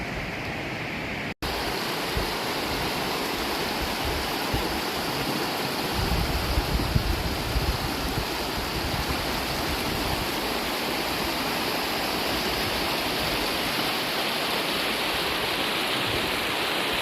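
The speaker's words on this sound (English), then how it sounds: "our first little waterfalls on trail" Small waterfalls on a Continental Divide hiking trail between Silver City and the Gila River, New Mexico, give a steady, full rush of falling water that stays constant and close throughout, with no voices.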